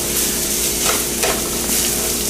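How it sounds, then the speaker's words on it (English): Onions sauté in a hot pan for a burger cook, giving a loud, continuous close-up sizzle with slight swells as they're stirred. "We got our onions sauteing now."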